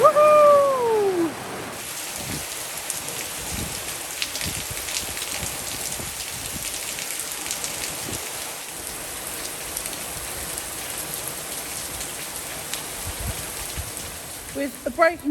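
Heavy rain pours steadily onto a courtyard, a dense, loud hiss of drops with scattered heavier splashes, continuous throughout with a brief whistle-like tone at the start.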